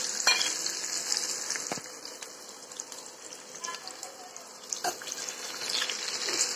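Onion, green chilies and curry leaves crackle in a hot tempering, a steady hiss with occasional stirring scrapes, moderately close.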